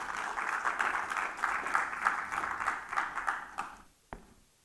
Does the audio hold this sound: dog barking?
no